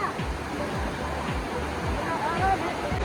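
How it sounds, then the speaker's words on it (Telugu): Water streams steadily past the boat with a continuous broadband rush, and low thumps recur at regular intervals beneath the flow. "ఈ వాటర్ ఫ్లోటింగ్ అంతా ఇక్కడ నుంచి అక్కడ దాకా వెళ్తుంది అనమాట"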